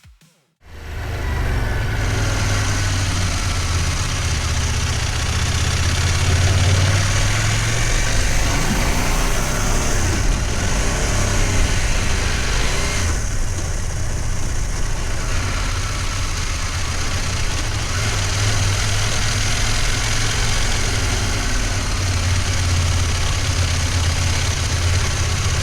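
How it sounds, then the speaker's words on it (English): A CFMoto MT800ES adventure motorcycle engine runs steadily at idle, a loud continuous close-up drone with a low throbbing pulse and little variation throughout. "I'll let you listen to the raw engine noises of the MT800ES"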